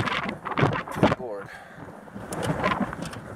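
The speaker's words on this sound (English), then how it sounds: "Okay, man, it's windy." Strong gusts buffet the microphone outdoors on an Earthship home build site during footing layout, a loud low rumble that swells and drops between bursts of close talking.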